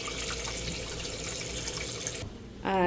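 Tap water runs steadily into a small pot as meat soaking in it is given fresh water, a continuous near splash that stops abruptly near the end.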